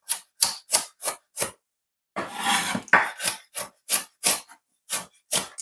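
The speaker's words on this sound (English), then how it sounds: "Just go ahead and chop them up." A knife chops seeded peppers on a board for Jamaican meat seasoning, a run of sharp, close, evenly spaced strokes with a brief burst of rapid scraping partway through.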